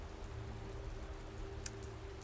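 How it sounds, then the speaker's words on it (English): Steady rain falls throughout a tabletop role-playing game session, a dense even hiss with a low constant hum underneath and one brief sharper splash near the end, no voices. "What is this rain?"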